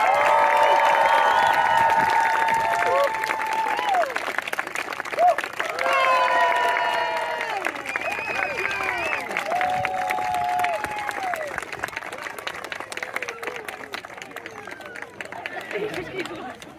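Outdoor crowd at a medieval weekend at Blenheim Palace cheering and clapping together, a loud sustained roar of voices and shouts with scattered applause that gradually thins out.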